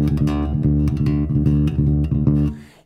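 A fingerpicked bass guitar plays a galloping line, with a close, repeating triplet gallop on low ringing notes and no voices over it.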